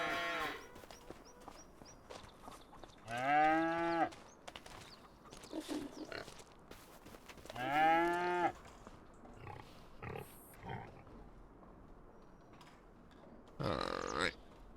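Cows in a dairy barn in a farming video game give two long, loud moos a few seconds apart, with softer grunts and shuffling farm sounds between them. A rough, low bellow comes near the end.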